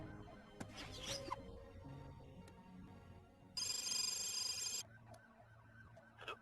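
A telephone rings in a short electronic burst, loud and bright, after a quieter chirpy tone earlier, set against low background film music and room ambience.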